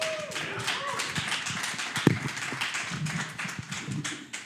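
An audience claps at a talk on bitcoin mining, a burst of scattered, fairly close hand claps while a voice speaks over it.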